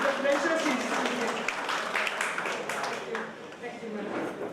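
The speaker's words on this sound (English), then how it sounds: "that should receive a big round of applause from all of you" Audience applause at an international academic conference in a Chennai college hall, steady dense clapping sustained throughout, with voices mixed in under it.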